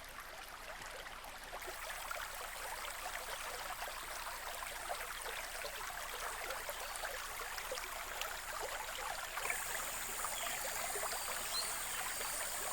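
A kingfisher's stream flows in a steady, continuous trickle and babble of water, moderately loud and unbroken throughout, with no voices.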